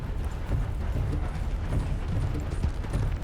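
A horse's hooves clip-clop steadily in Red Dead Redemption 2, a continuous close rhythm of hoofbeats over low rumbling ground noise, with no talk in the passage.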